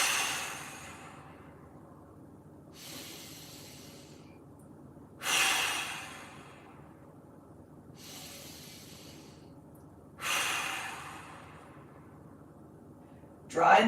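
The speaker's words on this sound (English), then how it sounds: "We're going to go 5 big breaths." Five deep breaths during a mobility exercise, each a long, airy inhale or exhale spaced a few seconds apart, close and soft, with the last few slightly stronger.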